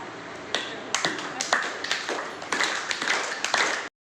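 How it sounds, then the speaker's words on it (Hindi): A group at an acupressure training camp claps hands together in unison, about eight crisp, evenly spaced claps at a brisk pace, close and loud, ending abruptly into silence. "तालियां बजाएंगे।"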